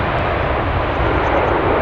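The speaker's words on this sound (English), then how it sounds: "there's the Asiana taxiing back to the stand now" Asiana Airlines airliner taxiing at London Stansted Airport in a crosswind, a loud continuous broadband engine roar with deep rumble, steady and close for a brief stretch.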